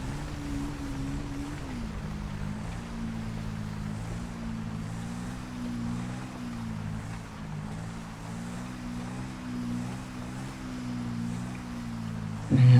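Scooter ridden in GTA 5, its engine a steady low droning hum with slight pitch wavers as it cruises, accompanied by wind rush, continuous and fairly loud, with a brief louder burst at the very end.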